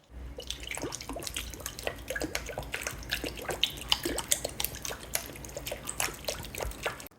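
Apple cider vinegar, about 80 millilitres, poured into a pot of homemade collagen broth, giving a steady trickle with scattered drips and splashes, close and fairly quiet, with no talking.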